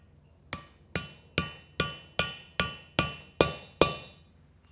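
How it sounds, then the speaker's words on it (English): Nine evenly spaced metallic taps ring out one after another, each a sharp tap with a brief ringing decay, close and clear, as valve stem seals are driven into place on a Ford Focus ST engine. "You can even hear when the seals tapped all the way to the end."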